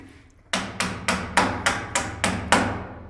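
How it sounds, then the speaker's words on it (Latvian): A hammer drives a nail into a small log with eight evenly spaced, ringing blows, each loud and close, following a brief quiet lead-in. "Un trāpot pa naglu, nagla ieiet."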